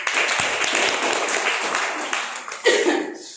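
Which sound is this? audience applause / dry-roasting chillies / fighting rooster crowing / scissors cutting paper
audience applause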